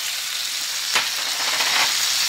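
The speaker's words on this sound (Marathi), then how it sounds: "मीडियम गॅसवर हा टोमॅटो छान परतून घेऊया सॉफ्ट होईपर्यंत" Tomatoes hiss and sizzle in hot oil over medium heat for a dhaba-style kaju masala gravy. The sound is a loud, dense, steady frying noise heard close up, with one sharp clack partway through.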